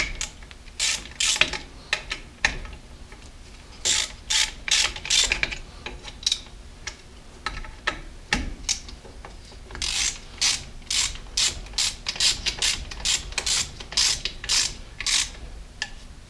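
A ratchet clicks in quick repeated bursts with short pauses as three small bolts are driven back into a pot-metal window regulator on a Lincoln Continental or Ford door.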